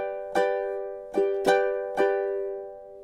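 Four plucked ukulele strums ring out alone in a cute summery fingerstyle tune, each bright chord decaying slowly with irregular spacing between them.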